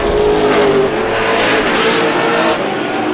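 Race cars at Star Speedway run side by side in a GSPSS 100 race, their engines roaring loud and steady as the pack passes close by, with a continuous dense drone throughout.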